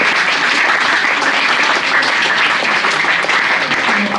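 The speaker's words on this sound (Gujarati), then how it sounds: "તો આપણે તાળીઓથી વધાવીએ" Loud, steady applause from a school audience fills the whole stretch, dense clapping without a break after a Gujarati poet's grammar talk.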